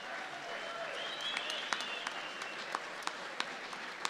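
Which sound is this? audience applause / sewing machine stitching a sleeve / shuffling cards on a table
audience applause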